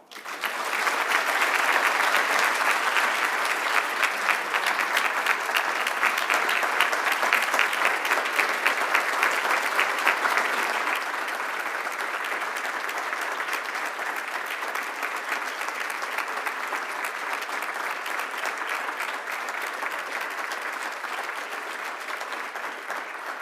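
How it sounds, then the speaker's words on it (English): Sustained applause fills a hall at a tenth-anniversary celebration event, dense and steady, strongest in the first half and then easing slightly while continuing to the end. "Another round of applause."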